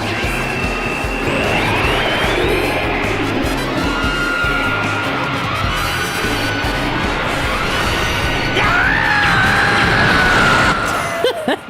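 A character in Super Robot Wars Y lets out a long, loud scream over a dense roar of mecha battle noise, its pitch rising and sliding near the end before cutting off abruptly.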